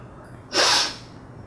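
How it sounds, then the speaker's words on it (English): A single wet, noisy sniff or snort through the nose, close and fairly loud, over quiet room tone. "sorry about my sniffling"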